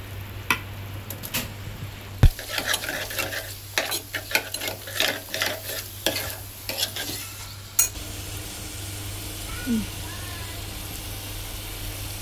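Ground masala hits hot oil for Solapur-style chicken and is stirred, a loud burst of spattering sizzle with repeated spoon scrapes and clacks, then the frying settles into a quieter steady hiss; a voice speaks briefly over it.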